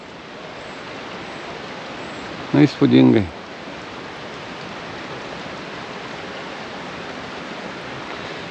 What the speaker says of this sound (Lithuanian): Ir nuo kalnų prasiveržia upeliai.